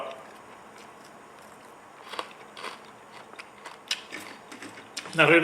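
Crunchy fried dried fish (daing), slightly burnt, being chewed close to the mic in a quiet room, with a few soft crisp bites and crunches scattered through, ending in a louder burst near the end.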